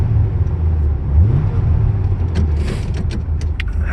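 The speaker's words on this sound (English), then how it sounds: "As you can hear, the RPMs come down after a little tap on the pedal." Engine of a 1981 Chevrolet Corvette idling close by, a steady low rumble with a brief rise in revs after a light tap on the pedal before settling back down.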